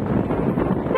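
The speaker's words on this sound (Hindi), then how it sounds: "हॉर्न तो आप सुन ही रहे होंगे" Horn of a motorbike honking during a village rally ride, a short sustained toot over steady wind noise and engine rumble.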